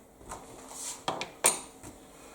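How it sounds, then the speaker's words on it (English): Chopped rinsed onion tips from a container into a coleslaw mixing bowl, a few soft clinks and rattles against the bowl, close and fairly quiet, with no talking. "And there we have our rinsed onion going in as well."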